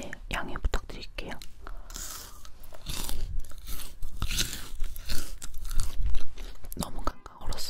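Frozen shrimp and celery dipped in sweet chili sauce being eaten up close, with crisp crunching bites and chewing mixed with soft whispered talk throughout.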